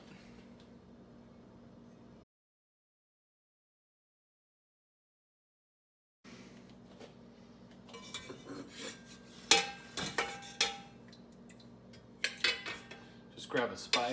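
Braised pork being lifted from a pot with a spider strainer for rillettes, a quiet low hum, a gap of silence, then close clatters and metallic clinks against the pot in bursts.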